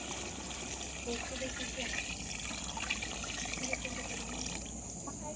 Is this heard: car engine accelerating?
no